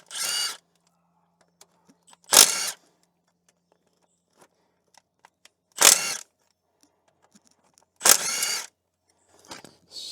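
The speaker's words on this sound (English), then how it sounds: "So much easier when you use an impact gun." A pneumatic impact gun spins out 45mm Torx bolts from the bottom crank pulley of a Vauxhall Insignia, heard as four short, loud rattling bursts spaced a couple of seconds apart, separated by near silence with faint clicks.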